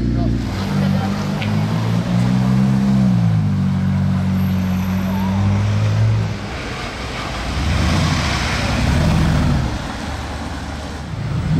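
A McLaren MP4-12C sports car drives past at a car-spotting location, its engine a loud, steady drone that rises and fades as it goes by, with passing traffic noise around it.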